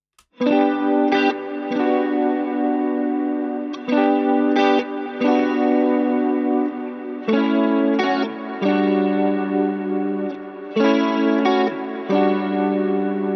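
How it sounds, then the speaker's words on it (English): Electric guitar strumming a simple four-chord progression, thick with chorus, echo and reverb effects; sustained layered chords ring out loudly in repeated phrases, with no voices. "So this is the original guitar part that I used to feed the AI."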